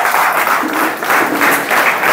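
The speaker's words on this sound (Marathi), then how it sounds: "या विद्यार्थ्यासाठी एकदा टाळ्या होऊ द्या" Students clapping together in a classroom during a maths workshop: a dense, even burst of applause throughout, close and loud, with no talk over it.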